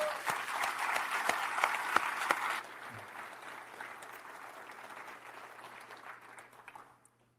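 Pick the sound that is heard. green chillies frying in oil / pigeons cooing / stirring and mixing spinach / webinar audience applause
webinar audience applause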